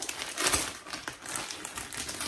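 A large plastic mailer bag from a clothing order crinkles as it is unpacked by hand, with continuous close crackling rustles and a sharper burst near the start, no voices over it.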